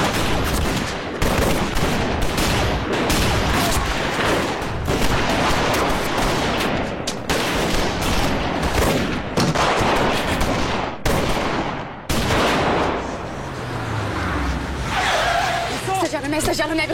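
A police shootout on a city street erupts in loud, rapid bursts of gunfire and automatic fire, nearly continuous and close, with vehicle noise mixed in and shouted voices over it.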